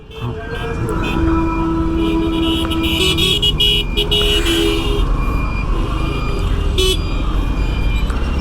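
Dense road traffic at the Titipara–Kamalapur railway underpass in Dhaka: a steady, loud engine rumble with repeated car horn toots sounding through it, some long and some short.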